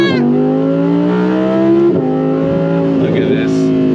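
A modified Audi R8 Performance supercar accelerates hard on throttle, its engine note rising steadily in pitch, dropping briefly at a gear change around the two-second mark, then climbing again. The engine is loud and close.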